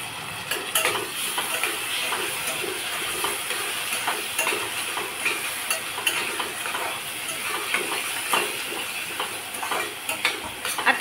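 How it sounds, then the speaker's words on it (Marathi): Tomatoes cook in a garlic-ginger masala in a pressure cooker for dum aloo. The soft sizzle carries steady clinks and scrapes of a metal spoon stirring against the vessel. The sound is close, with no speech. "आता हे टोमॅटो छान मऊ होईपर्यंत परतून घ्यायचे"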